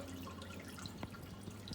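Water draining out of a hydroponic bucket, a quiet trickle with scattered drips and small splashes over a low steady hum, with no talking.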